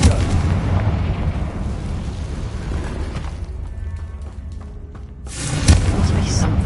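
The Confringo fire spell in Hogwarts Legacy on PS5 Pro sets off loud booming blasts with rumbling debris. A short lull follows, then a second burst near the end.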